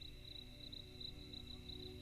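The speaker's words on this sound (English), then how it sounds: "the soft chirps of crickets" Steady high, shimmering cricket chirps repeat continuously over a low hum of background noise, soft and even throughout.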